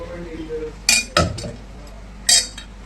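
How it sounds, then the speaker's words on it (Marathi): A metal utensil clinks against a strainer and pot while cooked drumsticks are mashed for soup: three or four sharp, bright clinks, two close together and one more a second later, over quiet room tone. "एक पातेला घ्यायचं आणि याची चाळण घ्यायची आणि त्याच्यामध्ये टाकून आपल्याला ते मॅश करून घ्यायचे"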